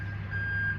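Bin lorry reversing beeps outside, a steady high tone repeating under a low engine rumble from the truck, heard from indoors at moderate distance with no talk.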